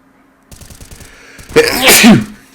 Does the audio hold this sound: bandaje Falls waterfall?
no